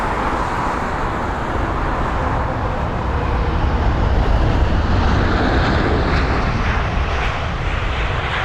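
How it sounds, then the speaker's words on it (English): A United Boeing 787 airliner's engines roar loudly and steadily at Heathrow during pushback, a broad sustained rumble with no voices. "Here's the United 787 on his pushback as well."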